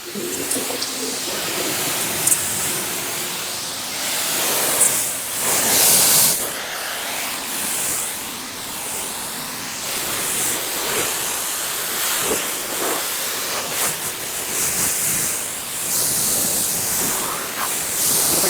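A steady hissing water spray rinses a vinyl-wrapped car, a continuous broad wash of sound at close range with slight surges as the nozzle moves.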